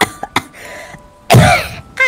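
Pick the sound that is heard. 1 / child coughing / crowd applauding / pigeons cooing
child coughing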